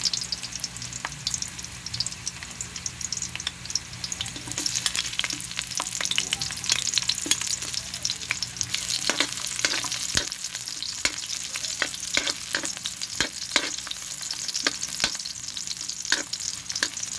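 Garlic sizzles steadily in hot oil in a pan while cooking chicken tinola, a continuous close frying hiss with scattered crackles and occasional stirring scrapes, no talking.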